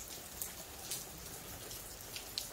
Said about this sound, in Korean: 버섯에 물이 정확하게 떨어지고 있습니다.